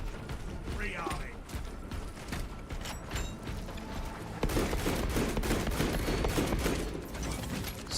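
Rapid sniper rifle fire in the video game Space Marines 2, dense mechanical clatter and bursts of gunfire growing louder and busier in the second half, with a voice speaking at times.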